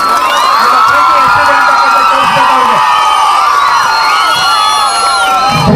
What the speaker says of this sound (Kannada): ಜೋರಾದ ಚಪ್ಪಾಳೆಯನ್ನು ಹೊಡಿಬೇಕು